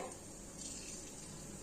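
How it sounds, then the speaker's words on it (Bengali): Small fritters of potato, pumpkin, bottle gourd and chana dal frying in oil, a faint continuous hiss of bubbling oil throughout the short stretch, with no speech. "ছোট ছোট করে আমি বড়াগুলো ভেজে নেবো"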